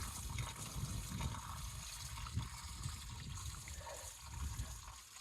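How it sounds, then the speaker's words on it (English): Water trickles and splashes out of a drain pipe onto a frozen field, a steady faint outdoor wash of flowing water with no talk. "I can see the water coming out there."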